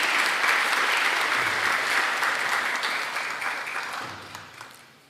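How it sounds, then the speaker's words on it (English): An audience at a 2024 Martin Luther King, Jr. scholarship award event applauds the recipients as they come forward, a dense, full round of clapping that gradually fades toward the end. "Let's give them a round of applause as they're making their way to the front."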